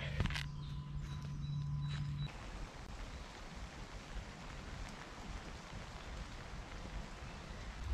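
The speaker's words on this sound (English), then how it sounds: "It wasn't supposed to rain today, so hopefully this is just a shower." A steady, soft hiss of rain falling on a canvas roof over an underground trench campsite, faint and continuous, with a brief low hum at the start.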